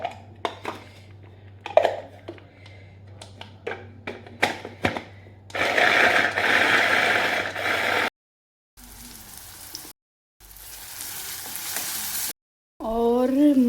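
Masala for chickpea curry fries in a pan with water added, giving steady sizzling and hissing, broken by stirring and clattering utensil knocks, with brief gaps.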